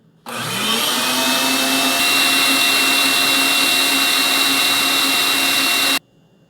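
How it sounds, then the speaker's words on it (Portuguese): An electric mixer beats eggs with sugar for an American-style carrot cake, starting abruptly, spinning up, then holding a loud, steady whirring hum for about six seconds before cutting off cleanly. "Primeiro, nós vamos bater os ovos junto com o açúcar."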